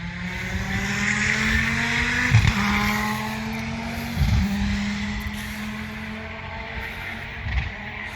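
Several race cars speed past outside a house, loud droning engines with rising and falling pitch as each passes close, punctuated by sharp whooshes at intervals.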